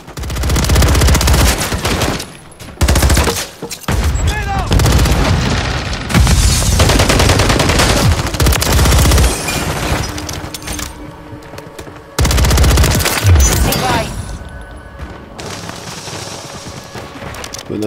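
Automatic gunfire in Call of Duty Modern Warfare 3 multiplayer, loud sustained bursts of rapid shots with short pauses between, heavy booming impacts and explosions mixed in.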